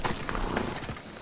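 Horse hooves clip-clop on the ground in the video game Assassin's Creed Odyssey, a brief, close run of a few quick hoof strikes over a soft in-game ambient bed.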